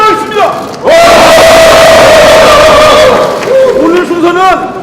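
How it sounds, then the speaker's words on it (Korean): A political rally of three Korean opposition parties, with lawmakers and party staff attending, breaks into a loud, sustained crowd cheer with drawn-out shouts that lasts a couple of seconds. A speaker's amplified voice comes just before and just after it. "환호로 시작하겠습니다."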